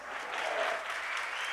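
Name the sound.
church congregation applauding visitors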